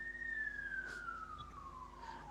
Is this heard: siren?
yes